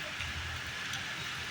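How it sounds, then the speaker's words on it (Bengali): Heavy rain pours steadily outdoors on a windy rainy day in Bangalore, a dense, even hiss with low rumbling underneath, continuous and fairly loud throughout. "খুব জোরে বৃষ্টি।"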